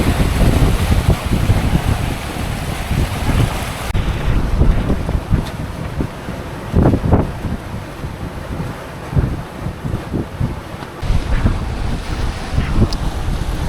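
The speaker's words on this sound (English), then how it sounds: "you put the genoa out and you can actually hear the speed pick up" A sailboat running under mainsail and genoa gathers speed. Strong wind buffets the microphone over steady rushing water and waves along the hull, heard up close and continuously with no one talking.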